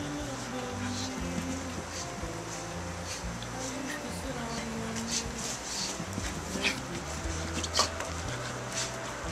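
Several Basenji dogs whine and whimper in high, wavering bursts, with soft pattering movement and low background rumble throughout.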